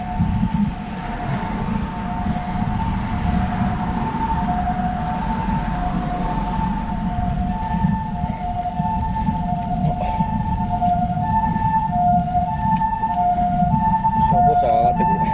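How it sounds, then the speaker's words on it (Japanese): A fire engine siren climbs a mountain road toward a cyclist, its two-tone wail growing louder over steady wind and road noise. "消防車が上がってくる。"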